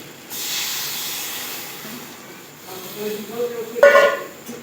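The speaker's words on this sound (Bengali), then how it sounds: "এবারে দিয়ে দেবো জল" Water poured into a hot pan of roasted gram flour (chhatu) gives a broad hiss that rises sharply, then settles into steady sizzling, with a louder burst of bubbling and spatter near the end.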